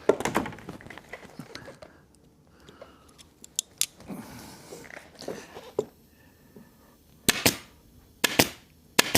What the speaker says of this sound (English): So I'm just stapling it along the stitch line here.